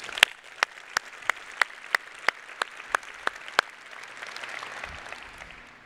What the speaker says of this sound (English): Please give all of our leaders another warm round of applause.